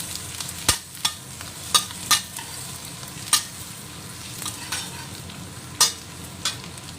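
Garlic is stirred and fried in a pan: a soft, steady sizzle runs beneath repeated sharp scraping clicks of a spatula against the pan, close and irregular, with no speech.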